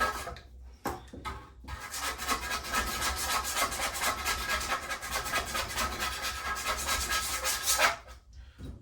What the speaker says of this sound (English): I found that just like a razor blade gasket scraper works really well.